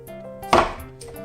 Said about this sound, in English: go ahead and chop this guy up